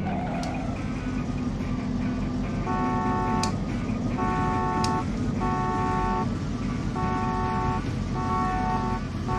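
Several short car horn blasts sound in a repeated pattern over steady engine and traffic noise, fairly close and insistent, in the PS1 driving game Driver 2.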